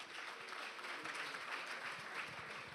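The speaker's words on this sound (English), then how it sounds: "Now, please help me to give them a round of applause." Steady applause from an audience at a Lagos State Records and Archives Bureau presentation event, a dense wash of clapping that holds evenly for the whole stretch without voices.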